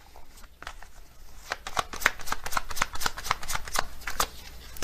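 Hermit Tarot cards being shuffled by hand in a quiet room, a dense run of crisp riffling clicks and slaps that quickens and grows louder partway through, alone with no talk.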